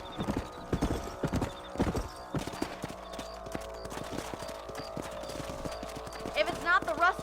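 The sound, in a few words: horses trotting, from video game Red Dead Redemption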